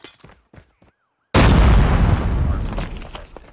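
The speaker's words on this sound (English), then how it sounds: "Cool, random nade." A grenade goes off in the mobile shooter Call of Duty Mobile, a sudden loud, close blast that rolls on as a long rumbling decay, after a moment of quieter game sounds.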